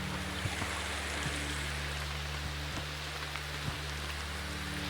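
Rain falls steadily outdoors at a cold riverside campsite, a dense, even hiss with occasional louder drops and taps, alongside a low steady hum, with no voices.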